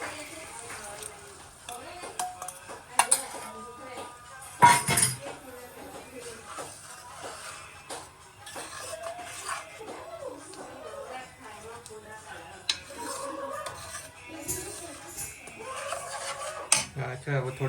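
A metal spoon stirs a cornflour and water mixture in a pot for Manchurian gravy, giving scattered clinks and scraping rubs with a few sharper knocks, under faint background voices.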